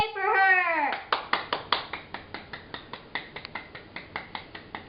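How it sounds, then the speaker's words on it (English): A high childish vocal squeal opens, then hands clap repeatedly in a quick uneven series of sharp, fairly close claps that gradually soften. "You can stop clapping now"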